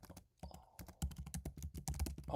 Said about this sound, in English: I'm typing a question.